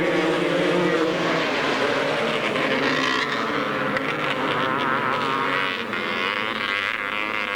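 250cc grasstrack motorcycles racing at a 1993 grasstrack meeting, a loud continuous roar of several engines close by, holding steady with slight rises and falls as the bikes pass.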